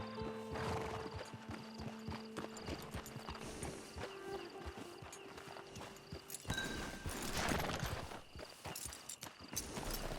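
Horse hooves clip-clop at a walk in the Red Dead Online video game, with snorts and a whinny rising partway through over a faint ambient background.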